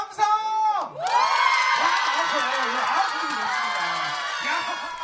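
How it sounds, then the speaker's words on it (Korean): A class group at a spring picnic shouts and cheers together in a loud burst of mixed voices, with some clapping, after a brief pause and then sustained whooping that gradually settles. "우리 1반만 박수 함성!"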